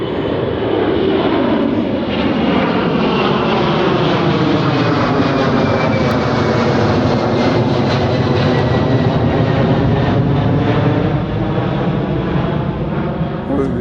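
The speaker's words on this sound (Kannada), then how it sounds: "ಏನು ಬ್ರೋ ಫ್ಲೈಟ್ಸು? ಕಾರ್ಗೋ" A cargo aircraft passes close by near an airport back gate, a loud sustained engine roar with a slowly shifting whine that holds steady throughout.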